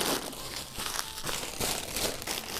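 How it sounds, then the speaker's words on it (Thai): A plastic bag rustles and crinkles close by in steady bursts as it is handled and squeezed, with no talking over it. "ถุงพลาสติกเอามาทำไม"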